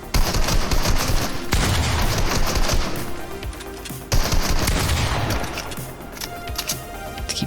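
Rapid automatic gunfire from the video game Fortnite, loud continuous bursts with brief pauses and crashing impacts, filling the whole stretch with no talking.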